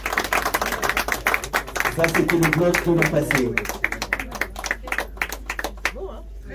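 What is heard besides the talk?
audience applause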